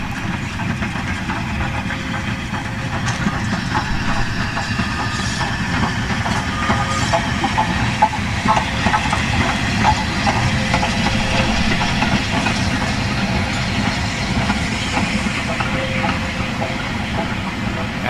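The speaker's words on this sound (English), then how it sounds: "we see a Bulleid at speed coming in to Horsted Keyes" Unrebuilt Bulleid Pacific steam locomotive Wadebridge running at speed toward Horsted Keyes with Southern Railway coaches, a steady loud rushing rumble and hiss with faint rhythmic clatter of wheels, sustained throughout with no talk.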